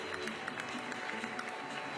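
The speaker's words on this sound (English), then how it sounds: "On applaudit les musiciens de l'orchestre de la" Dense, steady applause from a crowd at a basketball arena in Monaco after an orchestra's flash mob, a continuous wash of many hands clapping, heard at a distance and fairly quiet.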